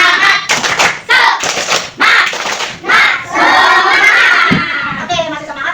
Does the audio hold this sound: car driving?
no